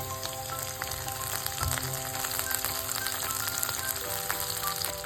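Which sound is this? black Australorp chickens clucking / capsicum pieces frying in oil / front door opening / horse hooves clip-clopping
capsicum pieces frying in oil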